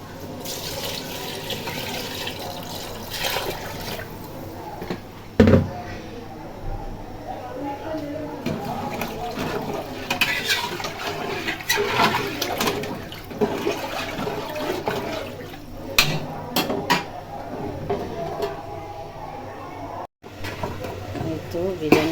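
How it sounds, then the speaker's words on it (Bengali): Water is poured and splashes into a pot of biryani being cooked in a home kitchen, with running, dripping water sounds. People talk over it throughout. "পানি দিয়ে দিব।"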